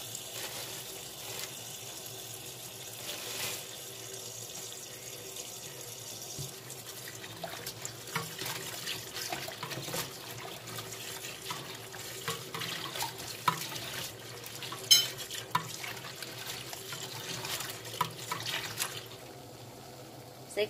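Tap water runs steadily over freshly picked maple leaves being washed in a sink, a continuous soft rush with occasional splashes and patters for about twenty seconds.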